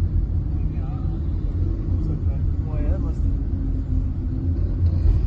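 A Lamborghini hypercar's engine gives a deep continuous low rumble as it drives close by, loud and steady, with people talking over it throughout.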